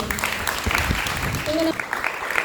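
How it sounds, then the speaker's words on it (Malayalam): Audience clapping for the director at a college arts event, steady applause with crowd noise and a brief tone partway through, voices mixed in underneath. "അപ്പോൾ മാമിനൊരു കൈയടി കൊടുത്തേ"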